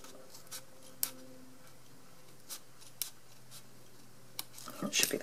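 Scissors trimming a small strip of vellum paper for a tea light window box, a few sparse quiet snips and clicks spaced apart, with a brief rustle of handling at the end.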